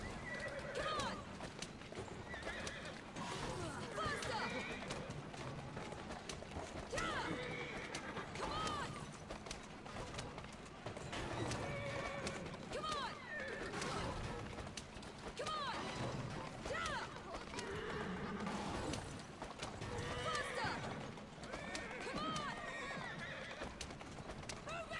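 Horse-drawn carriage in the Assassin's Creed Syndicate video game, with steady clip-clop of hooves and occasional whinnies under a continuous bed of street ambience, birds cooing, and background voices throughout.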